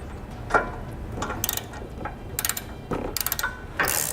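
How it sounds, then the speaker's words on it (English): Ratchet fitted with a 9/16 socket tightening a bolt into the nut plate while mounting a Demco tabless base plate on a 2014 Honda CR-V; several short bursts of crisp, close ratcheting clicks with brief pauses between, no talking. "We're going to do that using a 9/16 socket."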